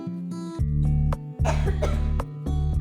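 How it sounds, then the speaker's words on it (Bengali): Several harsh coughs in quick succession, close and fairly loud, with short pauses between bursts. "কাশি আসছে খুব"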